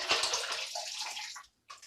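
Water poured and drained out of a small bag of panning sediment at a gold-panning teaching setup: a close, splashing rush lasting over a second, a short pause, then another splash.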